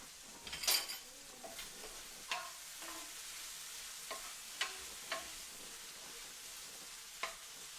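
Coconut curry shrimp cooking in a pot, a quiet close sizzle with scattered clicks and scrapes of a utensil against the pot, no talking.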